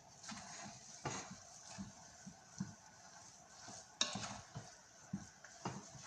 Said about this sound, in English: Mix the onion in really well, because as the turkey is cooking, then the onion will soften.